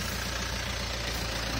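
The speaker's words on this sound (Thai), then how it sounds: "ติดเครื่องแล้วครับผม" A Yanmar farm tractor engine running just after starting, out in a muddy rice field, giving a steady low diesel rumble with an even throbbing pulse, loud and close, with no voices.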